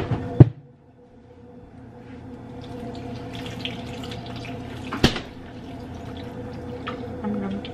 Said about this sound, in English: And then I'm gonna add a little bit of water.